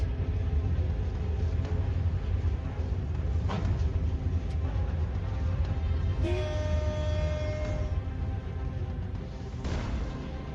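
A train horn sounds partway through, a sustained tonal blast over heavy continuous rumbling of a passing train, loud and close.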